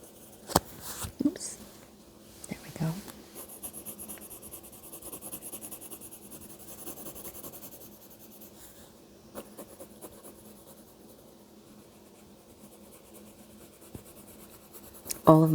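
A pencil sketches a bear on paper, with soft, close scratching and rubbing strokes that come in short bursts and pauses, faint and intimate throughout.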